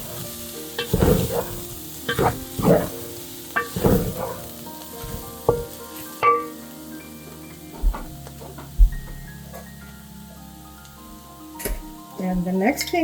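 Beef samosa filling with black pepper is mixed in a pan with a spoon. Repeated close scraping strokes, some quick and some spaced out, sound over a low sizzle that continues as the stirring slows.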